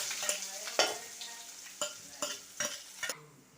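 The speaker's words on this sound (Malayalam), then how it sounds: "വെളുത്തുള്ളി ആദ്യം തന്നെ എണ്ണയിലിട്ടൊന്ന് മൊരിച്ചെടുത്ത്" Garlic, onion and green chilli fry in hot oil with a quiet crackling sizzle, broken by about six sharp spatula scrapes and stirs at an uneven rhythm.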